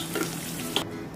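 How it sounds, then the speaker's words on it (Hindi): Steady oily sizzle of potatoes frying in oil with a brief clink or stir near the end, close and continuous. "अभी आलू को भी थोड़े से फ्राई कर ही लेते हैं"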